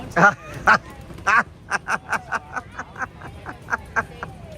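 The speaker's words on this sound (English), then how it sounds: "The ducks are everywhere." Ducks at Disneyland quack repeatedly in short, loud bursts, a few louder calls at first and then a steady rhythmic series of quacks, with people talking nearby.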